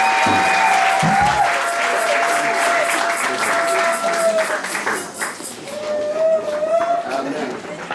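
A church congregation breaks into sustained applause and cheering, dense and loud throughout, with voices mixed into the clapping.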